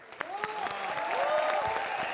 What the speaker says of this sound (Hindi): जोरदार तालियां कृष्णा के लिए।